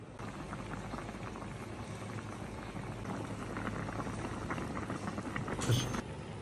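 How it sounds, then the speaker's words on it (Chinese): A pot of seasoned braise simmers on a stovetop flame, a steady low bubbling and hiss that runs throughout at modest volume, with a brief faint clink near the end. "开火，咱们炖10分钟"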